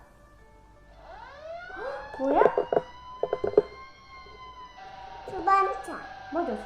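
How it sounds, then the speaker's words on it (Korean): A fire truck siren wails in rising and falling sweeps, moderately close, while a child and an adult talk over it. "소방차."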